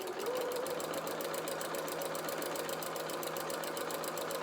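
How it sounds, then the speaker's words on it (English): A sewing machine runs steadily in reverse, stitching fabric for a stuffed bear's body and limbs, giving a continuous fast mechanical whirr with even rhythmic ticking, close and alone. "And then let's do a few stitches in reverse."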